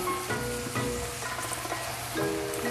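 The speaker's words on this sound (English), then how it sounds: "nicely diced onions into the pan. I don't know if you can hear those sizzling, but they're starting to." Steady crackling sizzle of diced onions frying in a hot pan, continuous and close, with faint clinks and hum in the background.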